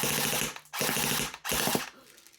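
A CYMA CM.135S airsoft electric gun with a drum magazine fires three rapid bursts separated by short gaps, a rattling mechanical buzz as the drum struggles to keep up with feeding.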